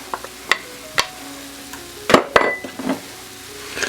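Celery tipped into a hot frying pan for a cheesy hamburger casserole and stirred, giving soft sizzling with a few sharp spoon scrapes and clinks against the pan, plus a busier burst of stirring partway through.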